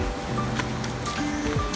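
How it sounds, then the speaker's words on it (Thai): A shallow, fast-flowing forest stream at a resort in Nakhon Nayok rushes and gurgles in a steady, close wash of water, with faint splashes and no clear talking. "น้ำไม่เยอะหรอกแต่ว่าน้ำไหลแรง"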